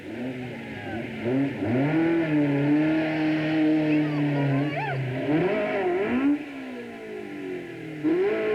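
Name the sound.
Vauxhall Chevette rally car driving off after hitting a rock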